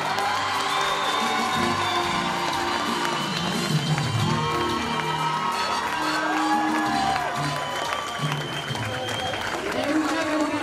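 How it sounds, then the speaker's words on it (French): Applause and cheering from a crowd at an equestrian championship medal ceremony in Lamotte, a dense continuous roar of clapping, shouts and whoops with voices mixed in throughout. "applaudissements mérités pour ceux qui vont monter sur les marches"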